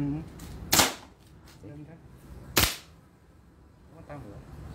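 A KJ Works KP06 airsoft pistol fires two sharp, loud cracks about two seconds apart. Quieter background noise and faint voices fill the gaps between the shots.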